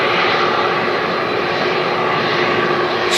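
A fixed-wing aircraft at Manchester Airport roars loudly and steadily nearby, a dense unbroken engine rush with no voices over it.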